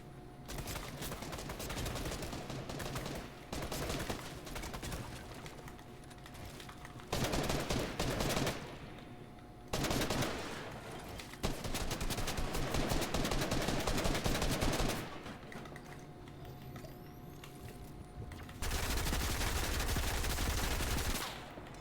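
Video game gunfire in rapid automatic bursts, loud and dense, broken by short pauses between volleys, with a heavy booming blast near the end; no talk over it.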